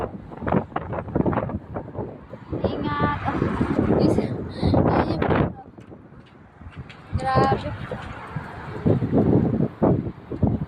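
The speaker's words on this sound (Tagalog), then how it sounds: "lakas ang hangin, tinatangay ako." Strong wind buffets the microphone in heavy, roaring gusts, with people talking over it and traffic faintly behind.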